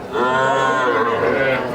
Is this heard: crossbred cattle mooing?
yes